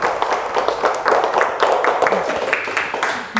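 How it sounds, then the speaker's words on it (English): Listeners at a family healing session give a round of applause for a participant, a busy burst of clapping that stays fairly loud and even throughout, with voices mixed in under it. "You guys want to give her a round of applause?"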